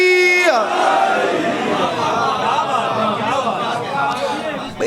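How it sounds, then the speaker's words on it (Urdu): A crowd gathered for a religious majlis gathering in Dhok Ratta raises a loud collective shout of the Naara-e-Haidari slogan, a dense roar of many voices that swells after a brief held tone and stays steady to the end. "جو ناراض نہیں بیٹھ رہے اپنے ہاتھوں کو اٹھا کے نعرے حیدری"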